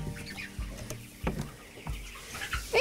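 Chickens on a poultry farm raising broilers and laying hens, with a few scattered clucks and short calls rising over a low steady background, fairly near and moderately loud.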